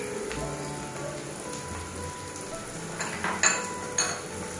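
Meat sizzles in a pan, a steady soft frying hiss at low level with a few brief louder crackles and stirring clatters near the end; no one speaks.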